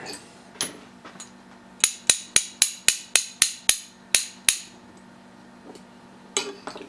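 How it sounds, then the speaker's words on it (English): A small hammer taps a drive gear onto a metal pin about ten times in a quick, even run, each strike sharp and ringing, with quieter clinks before and after. "I tapped the drive gear back down on that pin a little bit more"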